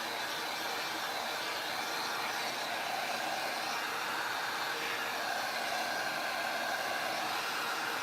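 Hair dryer blowing steadily over a refinished garage-sale decor piece, a continuous loud broadband whoosh lasting the whole stretch without pause.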